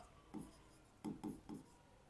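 Short scratchy strokes of a marker on a classroom board, one stroke followed after a pause by three quick ones in a row, close and quiet against a faint room hum.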